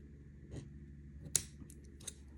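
Scissors trimming craft string on a string art kit, a few soft separate snips with one sharper cut, close and quiet against a faint hum.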